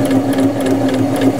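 A sewing machine stitches a seam, running at a steady, rapid hum with a buzzing mechanical drone, close and loud throughout with no talking.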